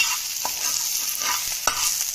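Ginger, garlic and spring onion stir-fried in a pan for gobi manchurian: continuous close sizzling with a few spatula scrapes and one sharper clink, no voices.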